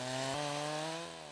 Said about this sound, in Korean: 벌목은 나무 밑둥의 적당한 부위를 톱질해서 넘어뜨리는 형태로 진행된다.